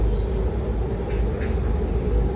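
Two trains pass each other in opposite directions, giving a continuous heavy rail rumble with a steady low drone, close and fairly loud throughout the short stretch.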